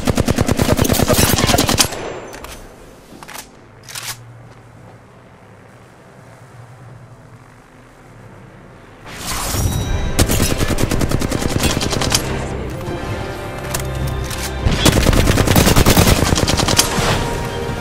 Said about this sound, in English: Getting shot at. Firing on subjects.